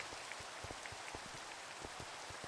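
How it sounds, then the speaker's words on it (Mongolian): Steady rain falls outdoors, a constant dense hiss with close, irregular drops pattering on a surface throughout, and no voices over it. "Бороо орсон."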